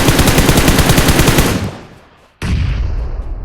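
Rapid automatic gunfire in the PUBG video game on the desert Miramar map, a loud sustained burst for about a second and a half that fades out, then a fresh loud burst starts abruptly.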